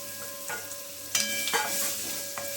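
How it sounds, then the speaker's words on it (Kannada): Potatoes and green chillies fry in a pan, giving a steady close sizzle with a few sharper crackles and stirring scrapes throughout. "ಅದನ್ನು ಇದ್ರ ಜೊತೆಗೆ ಹಾಕ್ಕೊಂಡು ಹುರ್ಕೊಂಡ್ಬಿಡ್ತೀನಿ"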